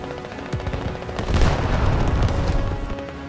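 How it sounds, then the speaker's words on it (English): Creeping artillery barrage in the Squad military shooter game: a dense, rumbling run of booms and distant crackling gunfire that swells midway and keeps rolling, with no talk over it. "Creeping barrage inbound."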